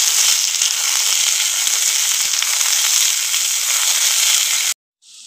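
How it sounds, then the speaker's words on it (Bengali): Steady, loud sizzling of potatoes frying in hot oil, a dense crackling hiss that cuts off abruptly near the end. "আলুটা একটু ভেজে নেবো এবার।"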